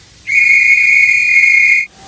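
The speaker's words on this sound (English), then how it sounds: "The train driver, Robin and Daisy blow their whistles." A single shrill whistle, blown for a children's story about a train, sounds loud and steady for about a second and a half, then cuts off cleanly.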